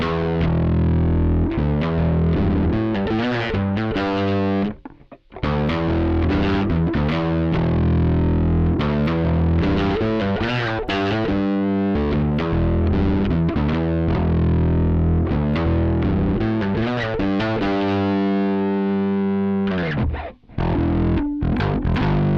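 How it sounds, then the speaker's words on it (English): A bass guitar played through a Tech21 VT Bass DI set for a heavy fuzz, with a distorted riff that runs continuously, picked notes and sustained chords, loud and upfront with a couple of brief pauses. "It's more of a fuzzed out kind of sound, definitely aimed more at more modern styles."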